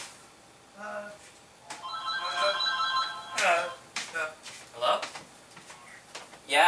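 A telephone rings with a few bright, tonal bursts amid household clatter, while someone talks nearby.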